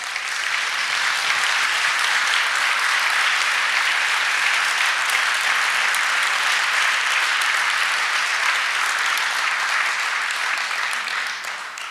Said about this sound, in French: ces applaudissements leur reviennent